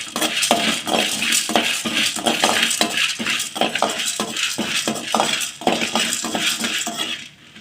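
Ingredients for a spicy kara chutney are dry-roasted in a pan, with a spoon clattering and scraping busily against the metal in quick, uneven strokes, close and fairly loud.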